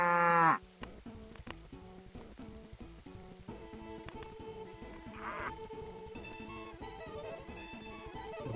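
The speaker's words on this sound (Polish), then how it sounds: "będziemy teraz doić krowy" Cows moo in the farming video game Farming and Friends, mixed into a steady bed of looping game music that runs through the whole stretch.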